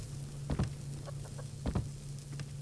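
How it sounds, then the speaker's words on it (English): Chickens cluck in the farming video game Subsistence, with two clusters of short clucks about a second apart and a few softer notes between, moderately near over a steady low hum. "Our lovely chickens."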